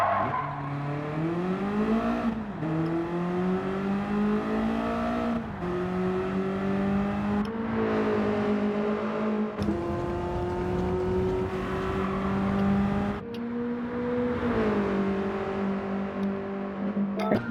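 BMW E30 M3 Evo being driven hard, its engine loud and continuous through repeated gear changes, revs climbing and dropping in steady surges with no talk over it.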